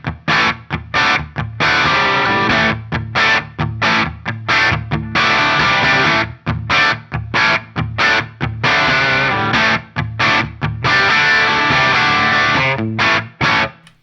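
Electric guitar played through the rhythm channel of a solid-state Marshall 9000 preamp cranked to crunch, with loud distorted chugging chords in choppy rhythmic bursts and short muted gaps between them.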